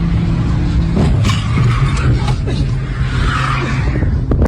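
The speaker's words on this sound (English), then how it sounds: "So they're in the car, they're driving." A stolen car being driven hard, its engine roaring loud and steady throughout with brief tire skids and squeals mixed in, and muffled voices underneath.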